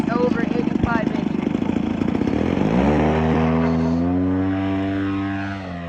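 Large aerobatic gas-powered RC airplane over 85 inches, its engine buzzing at high idle as it passes overhead, a loud steady drone that shifts in pitch and slowly fades, with someone talking over it.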